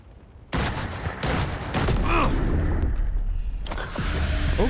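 Heavy automated turret fire in Cyberpunk 2077, loud bursts starting abruptly and continuing in a dense rattling barrage with booming hits and whooshes, sustained near the listener.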